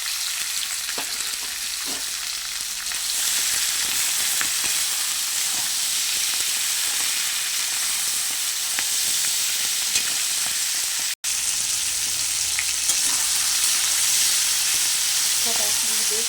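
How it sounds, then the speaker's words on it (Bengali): Malabar spinach fries with pumpkin, eggplant and potato in a pan, producing a loud, continuous hissing sizzle with occasional stirring clinks and a brief break partway through. "সব একসঙ্গে বেশ ভালো করে ভেজে নিয়েছি"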